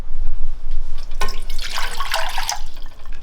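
Water runs into a saucepan on a stove for a braised potato recipe, a short splashing pour that starts abruptly and swells over a steady low hum of kitchen background noise.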